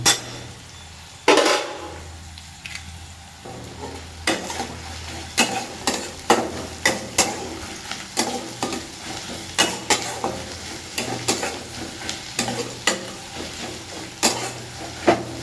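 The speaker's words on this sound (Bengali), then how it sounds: "ভালো করে লাল করে ভেজে নেবো" Meat frying in a pan sizzles steadily while a spoon stirs it, with repeated sharp scrapes and clinks of metal on the pan at an uneven rhythm, close and fairly loud, with no talking.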